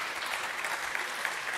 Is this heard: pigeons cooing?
no